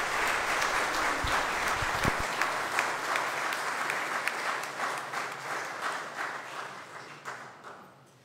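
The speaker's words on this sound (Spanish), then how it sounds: "Un aplauso para estos nuevos cristianos." A church congregation at Easter Sunday Mass applauds new Christians, a warm, even round of clapping that carries for several seconds and slowly tapers off near the end.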